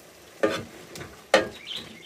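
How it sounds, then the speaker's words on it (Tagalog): Corned beef frying in a pan for Filipino-style spaghetti sauce, giving two sharp bursts of sizzle as it is stirred, with a softer crackle between them. "Ayan, i-fry mo yung corned beef."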